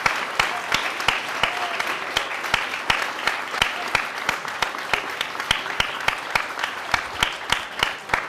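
Audience applause at a talk honoring Carolina Toá and David Reed: a steady, dense wash of many hands clapping at even loudness for the whole stretch, with sharper individual claps standing out, no voices over it.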